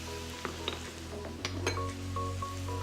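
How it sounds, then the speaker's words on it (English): Juice reamer being taken out and handled in a home kitchen, a few light clinks and knocks of utensils against a hard surface over a low steady hum, quiet and close. "Get my juice reamer out."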